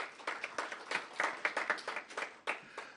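Audience applause at a book talk, a short burst of uneven claps that rises and tapers over a few seconds, fairly close and heard alone without talk.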